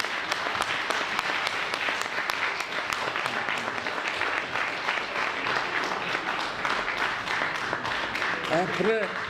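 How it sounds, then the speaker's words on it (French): An audience applauds after a speech presenting a book, a continuous crackling patter of many hands heard under a voice that speaks over the clapping throughout. "vos applaudissements que j'avais prévu de recevoir et que j'entends crépiter maintenant"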